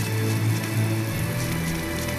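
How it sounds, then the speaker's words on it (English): Steady, dense rain falling in the video game Tales of Berseria, a continuous hiss of drops hitting surfaces, fairly loud and unbroken for the whole stretch. "Man, it is raining."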